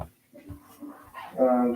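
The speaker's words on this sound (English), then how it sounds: "This is my dog, and this is the first time that she is seeing Flukes right now." A dog named as female gives a few short whimpers and yips at home, rising to a louder, sustained whining cry near the end, close to the listener with no talk.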